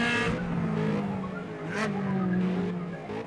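Race car tires squealing and skidding in the Gear Club racing game at the Spa circuit, a sustained engine drone with a long sliding screech, loud and steady with no talk over it.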